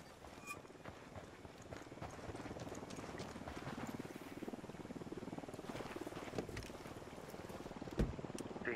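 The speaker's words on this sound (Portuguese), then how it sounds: "trouxemos o helicóptero" Helicopter in the video game Ghost Recon Wildlands, a continuous low rotor rumble and whir at fairly low volume, steady throughout with a few faint clicks and a small thump near the end.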